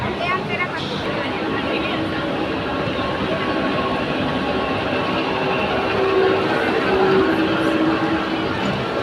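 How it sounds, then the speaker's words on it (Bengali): A train rumbles past nearby with a steady, loud roar of wheels and rail noise, with a brief horn-like tone and voices in the background. "আমার বাড়ির কাছ দিয়ে ট্রেন যাচ্ছে দেখো।"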